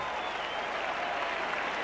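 A cricket crowd at a Test match applauds Chappell with steady, dense clapping that carries at an even level throughout, broadband and slightly distant, with no voices standing out.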